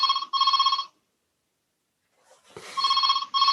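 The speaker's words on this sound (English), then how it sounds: "I'll wait for the phone to finish." A telephone rings in repeated bursts of bright electronic trilling, then falls silent for over a second before a brief rustle and two more rings, fairly loud and with no voices.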